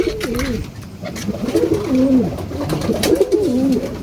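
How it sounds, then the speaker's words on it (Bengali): Several pigeons coo excitedly in a loft, close by, with repeated throaty rolling coos overlapping in bursts alongside soft fluttering and background rustle. "এখন সব কবুতর পাগল হয়ে যাবে, দেখা যাচ্ছে।"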